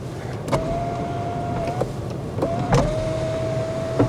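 A Lexus car's electric sunroof runs twice, each time a steady motor whine that starts and stops with a clunk, heard close up inside the cabin.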